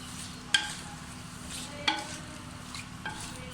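Potato bhujia with cumin seeds sizzling gently in a pan, a steady low hiss under a few sharp clicks of a spoon scraping and tapping the pan as it is stirred, close and fairly quiet.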